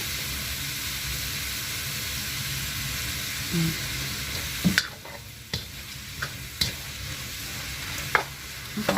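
Pork belly fries in a little oil, sending up a loud, even sizzle that drops off about halfway through. Sharp clinks and taps of a utensil follow against a softer hiss.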